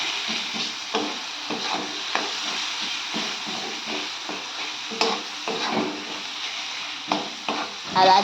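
Cabbage stir-fried with spices in a pan gives a soft, steady sizzle, broken by a run of rhythmic scrapes and taps from a stirring utensil.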